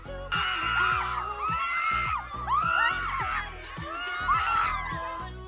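Fans crowded outside a Louis Vuitton fashion show scream and shriek as a K-pop star leaves, with overlapping high-pitched cries rising and falling in waves over a busy crowd murmur.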